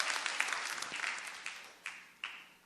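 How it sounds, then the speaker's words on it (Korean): A church congregation claps during a Christmas sermon, a dense rustling burst of hands fading gradually with a few louder late claps, moderately distant and without any voice over it. "아니, 이게 무슨 박수입니까?"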